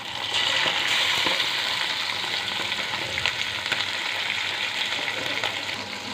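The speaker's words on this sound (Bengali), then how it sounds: "সব মাছগুলি আমি কড়াইয়ে দিয়ে দিয়েছি। এবার একটু নেড়ে চেড়ে ভেজে নেবার করলাম।" Small whole tengra catfish frying in hot oil in a wok, a steady dense sizzle with occasional scrapes and clinks as the fish are stirred, close and continuous with no talking.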